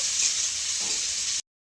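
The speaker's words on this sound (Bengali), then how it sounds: "ভেজে নেব লাল লাল করে" Onions fry in hot oil in a pan with a loud, steady close sizzle and a brief stir partway through, then the sound cuts off abruptly.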